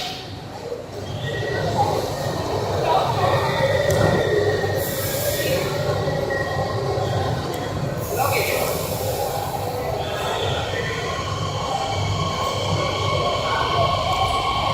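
A Pune Metro Aqua Line train between Shivaji Nagar and Pune Junction rumbles steadily throughout, with a metallic wheel squeal rising near the middle, while people chat underneath.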